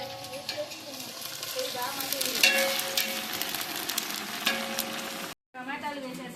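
Ginger paste fries in a pan over a wood fire while being stirred for boti dum biryani, a close crackling sizzle with scraping strokes and a brief dropout near the end.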